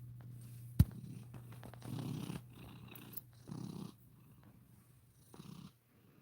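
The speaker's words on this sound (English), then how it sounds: "purring." A cat purrs close up in low, rumbling bursts that rise and fall with its breathing, with one sharp click early on and otherwise quiet surroundings.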